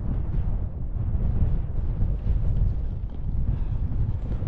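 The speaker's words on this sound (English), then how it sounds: "Pretty windy now as well." Strong wind buffets the microphone on Bonscale Pike, a fell summit, producing a loud, steady low roar with gusty swells throughout and no voices.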